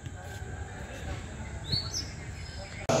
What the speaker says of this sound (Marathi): काळी चिमणी काढते तिकडनं